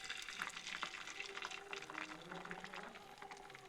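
Beaten egg poured onto a tawa of hot mustard oil gives a steady, close sizzle and hiss with bubbly crackle, alone and without talk.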